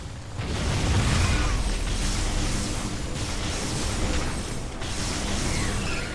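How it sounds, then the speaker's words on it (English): Weapons fire on a rock formation to seal a cave opening in the StarCraft II video game, producing a sustained, loud roar of blasts and rumbling explosions with no speech over it. "If we fire on the rock formation, it will seal the opening."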